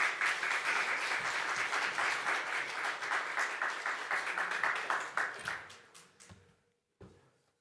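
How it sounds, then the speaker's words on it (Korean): Welcoming applause from a Korean church congregation as the pastor comes up, a full steady round of clapping that thins and fades out, leaving a few scattered claps at the end. "올라오실 때 우리 환영의 박수로 맞이하시겠습니다."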